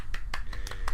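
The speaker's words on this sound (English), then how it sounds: "Applause for you." A few sharp hand claps in quick succession, close and fairly loud, offered as applause for a podcast donor over a low steady background hum.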